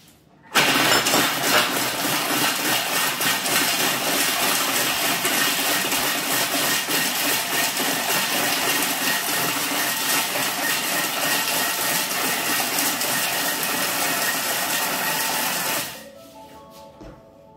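A kitchen food processor with its lid and measuring cup in place runs at speed 4 for about fifteen seconds, a loud steady motor whir that starts abruptly and cuts off near the end.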